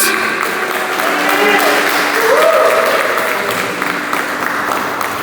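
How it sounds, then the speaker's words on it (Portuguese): A church congregation applauds enthusiastically, a dense continuous wash of clapping filling the room while a preacher's voice carries over it. "Aplauda com vontade esse Deus."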